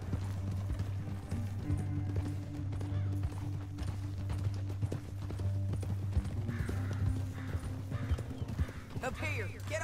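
Horse hooves clip-clopping steadily in Red Dead Redemption 2, close and continuous beneath game music and a brief whinny, with voices talking over them.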